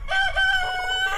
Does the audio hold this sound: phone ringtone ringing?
no